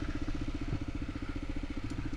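A motorcycle engine running steadily on wood-cutting trails, its low throbbing pulse loud and close with a constant rough drone and no talking.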